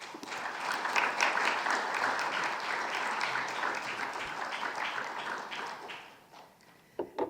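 An audience in a lecture hall bursts into sustained applause to welcome a speaker, a dense steady patter of many hands that fades after about six seconds, followed by a few stray claps.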